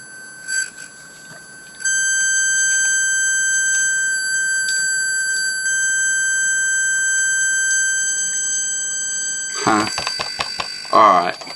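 A steady, piercing electronic buzzer tone from a hobby-kit high-water indicator set off in water sounds continuously for most of the time, then breaks off as handling noises and movement take over near the end.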